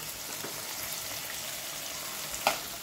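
Potato stuffing stirred in a hot pan, a steady soft sizzle and scrape running throughout with one brief louder clink near the end.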